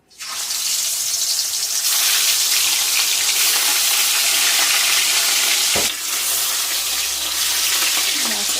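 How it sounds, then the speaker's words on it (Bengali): Hilsa fish pieces coated in salt and turmeric fry lightly in hot oil. A loud, close, steady sizzle holds throughout, with a brief clatter near the end. "একটু হালকা ভেজে নেব"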